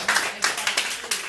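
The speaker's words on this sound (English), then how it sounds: "Clap it up for yourselves." Several separate bursts of clapping from a small audience at a poetry night in the Rialto Living Room, short and uneven, only a few people joining in for a brief moment.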